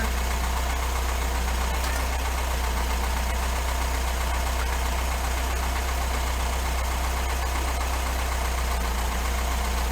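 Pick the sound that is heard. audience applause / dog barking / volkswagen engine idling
volkswagen engine idling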